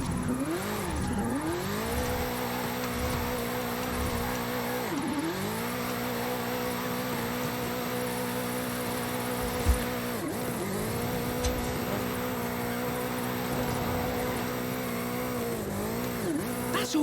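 A car drifting in Forza Horizon 5 with a sustained tire squeal and a revving engine whose pitch dips and recovers every few seconds as it slides through corners, loud and continuous, with no talking.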